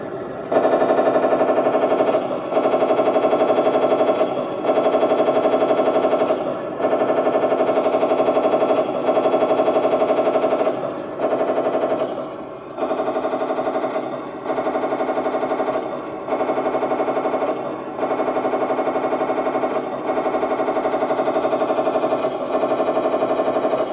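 Sound-effect unit on a Panther G tank model firing its machine gun: loud, steady rapid buzzing bursts with brief gaps between them, close and alone.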